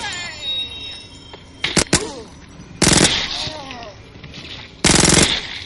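Micro SMG fire in the zombie shooter game Zombie Arena, heard as a few short, loud rapid bursts, with game sounds and effects between them.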